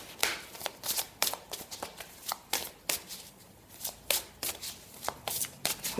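Tarot cards are shuffled by hand in quick riffling bursts, a dozen or so sharp crisp flutters in an irregular rhythm, close and fairly quiet.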